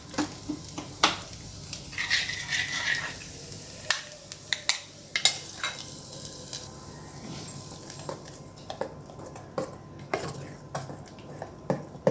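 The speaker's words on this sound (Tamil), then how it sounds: "இப்போ இதில் நம்ம முந்திரி வறுத்து போட்டுடலாம்." Cashews frying in a pan of batter for rava paniyaram, stirred with a metal spoon: soft sizzling under sharp scrapes and clinks against the pan, close by, with no voices.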